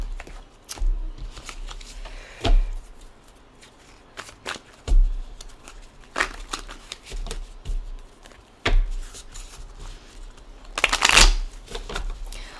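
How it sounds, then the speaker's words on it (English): Tarot cards being shuffled in repeated riffling bursts, close by, with short pauses between each shuffle and a denser flurry near the end. "And we'll shuffle this other deck as well."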